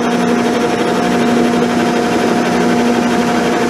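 A milling machine's end mill cuts a camel back straight edge casting, giving a steady, loud machining drone with a constant hum throughout and no pauses or talk.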